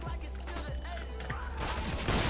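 P90 submachine gun fire in CS:GO, a rapid rattling burst of close shots that continues with sharper cracks toward the end, with faint game sounds underneath.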